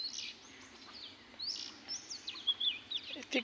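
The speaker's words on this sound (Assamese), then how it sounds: "এটি কুলি দুটি এখানতে সামৰিলোঁ।" An Asian koel calls outdoors among tea bushes with a series of rising whistled notes, moderately close, repeated in uneven bursts over a low background hum.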